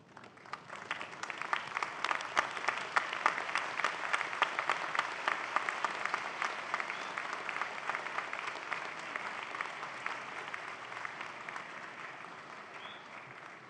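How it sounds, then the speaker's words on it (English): A large convocation audience applauds graduates' families and friends, sustained dense clapping swelling quickly and holding steady before easing slightly toward the end. "face your family and friends, and give them a warm round of applause for supporting your journey"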